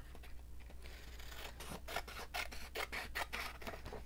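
Scissors snip through the edge of a junk mail envelope, a run of crisp, quick cuts that grow more rhythmic in the second half, close and fairly quiet with no talking.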